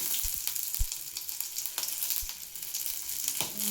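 Cinnamon, garlic and ginger crackle in hot oil, a busy close sizzle with a few sharp spatula knocks and stirring scrapes against the pan, with no voices.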